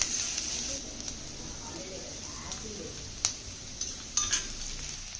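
Onions stirred in a pan of hot oil tempered with mustard seed and cumin, sizzling steadily with a spoon scraping and a few sharp clinks against the pan near the end.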